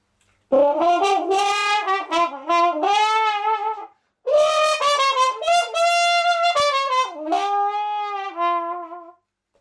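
A trumpet played with a plunger mute and throat growl, a close solo horn line in two phrases of sustained and bending notes with a brief pause between them, no talking.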